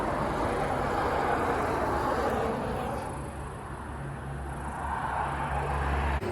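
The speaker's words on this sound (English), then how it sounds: "I am right next to a highway if you constantly hear the cars that are going by." Constant traffic rush from cars passing on a nearby highway in Maine, a broad, fairly faint wash of road noise with gentle swells as vehicles go by.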